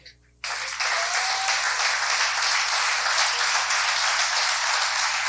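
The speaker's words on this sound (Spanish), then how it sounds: "Un aplauso al Señor." A church congregation breaks into sudden, loud applause praising the Lord during a Sunday sermon, the dense clapping starting abruptly after a brief quiet moment and holding steady throughout.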